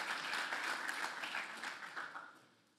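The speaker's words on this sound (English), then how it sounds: "Thank you so much for the applause." Applause from the audience at a startup pitch competition, a dense patter of clapping that holds steady and then fades away over a few seconds.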